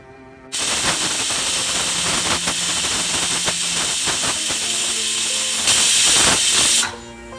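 Loud, continuous steam hissing from a pressure cooker whistling while cooking mutton curry, with rapid rattling under it, rising sharper near the end before cutting off abruptly.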